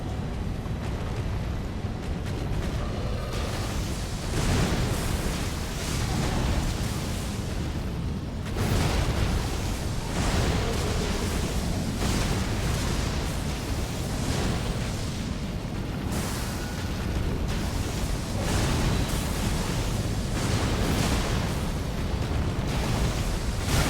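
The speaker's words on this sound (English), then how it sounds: "Spewing out fire, spewing out fire." A creature spews fire in the Elden Ring video game, a loud, continuous roaring rush that swells and surges in waves for the whole stretch, dense and close, with no voices.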